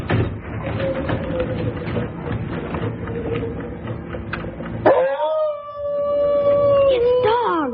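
A dog howls in a drawn-out, wavering cry during a spooky Halloween radio-style drama, first buried under busy, cluttered background noise, then rising clear and sustained for several seconds with a second voice briefly joining near the end.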